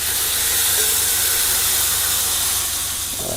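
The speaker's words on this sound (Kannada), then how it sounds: "ಸಿಹಿ ಅಂತ ಒಂದು ಒಗ್ಗರಣೆ ಬಿಟ್ರೆ ಆಯ್ತಲ್ಲ." A tempering for onion gojju hisses loudly and steadily in hot oil, a dense continuous sizzle that holds for a few seconds before easing slightly at the end.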